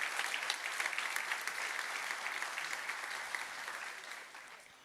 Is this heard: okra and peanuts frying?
no